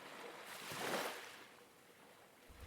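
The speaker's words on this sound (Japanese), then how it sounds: "波音" A single ocean wave swells and washes in, rising to a soft peak of broadband rush and then receding into quiet, gentle surf.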